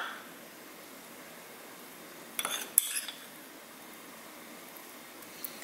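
Brief soft clinks and taps of a spoon against a dish as a flour mixture is spooned and patted onto a cod fillet, a short cluster of light contacts midway through an otherwise quiet kitchen.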